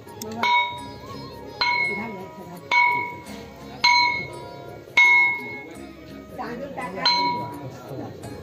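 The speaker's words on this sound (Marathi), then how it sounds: "घंटा वाजव." Temple bell rung during Ram Navami festivities in a Konkan village, giving about seven separate bright metallic strikes at roughly one-second intervals, each ringing briefly over background crowd chatter.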